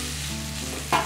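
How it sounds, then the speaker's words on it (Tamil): Moringa leaves hiss in a hot pan as they are stir-fried, a brief steady sizzle ending in a sharp scrape of the spoon. "4 கைப்பிடி அளவுக்கு முருங்கைக்கீரையை அதில் சேர்த்துடலாம்."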